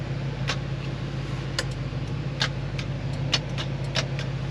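A 1933 Ford street rod's electric door lock actuator pushes its pin with a series of short, sharp clicks and ticks, spaced irregularly over a low, steady engine-like hum.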